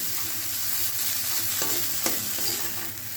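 Grated coconut for a chutney sautéed in an oil-coated pan, with a steady close sizzle and occasional spatula scrapes as it is turned, and no one speaking.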